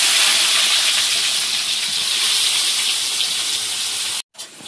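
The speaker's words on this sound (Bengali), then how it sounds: "কড়াই তেল দিয়েছি, এবারে গোটা জিরে দিয়ে পেঁয়াজ কুচি" Chopped onion and whole cumin hit hot oil in a wok, giving a loud, dense, continuous sizzle that cuts off abruptly near the end.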